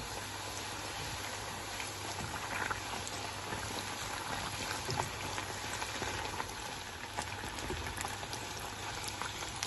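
Puri frying in hot oil, a dense continuous sizzle and bubbling crackle, steady and close, with no talking.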